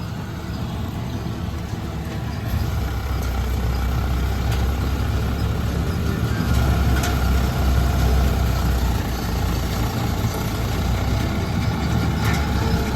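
A John Deere 5075 E diesel tractor engine running steadily, a close, continuous low rumbling drone with slight rises in intensity and no speech over it.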